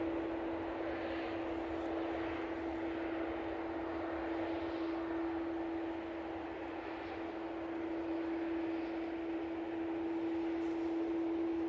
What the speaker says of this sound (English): Ryanair 737 MAX 8 now coming in.